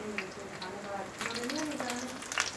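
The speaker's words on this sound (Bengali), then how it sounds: "আমি এটাকে ভেজে নিচ্ছি।" Bean pakoras fry in hot oil, a soft steady sizzle with light crackles running under a voice speaking throughout.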